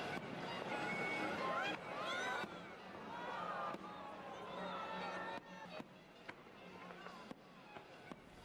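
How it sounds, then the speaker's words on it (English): New Year fireworks launched from a bridge crackle and burst continuously amid a noisy crowd outdoors, with whistling rockets and popping bangs layered over steady background roar. "Fireworks from the bridge, like we said."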